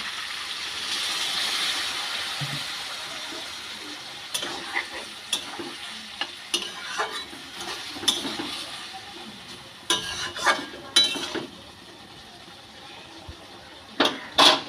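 Spiced potatoes cooking in a pan for potol dorma just after a little water goes in, a loud hiss that settles into quieter sizzling broken by scattered clicks and scrapes of stirring.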